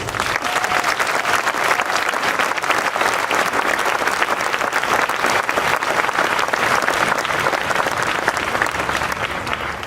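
Commencement audience applauding to welcome the speaker at the Stone Ridge 2017 ceremony, steady and sustained clapping from a large crowd, loud and even from start to finish.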